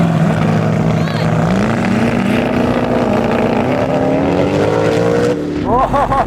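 Koenigsegg Regera launching off the line in a drag race beside an Agera RST, a loud, steadily rising engine and drivetrain whine that builds continuously, with excited voices over the roar.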